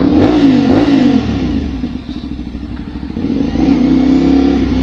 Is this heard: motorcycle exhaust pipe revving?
yes